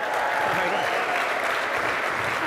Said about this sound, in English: By show of applause, how many people are here?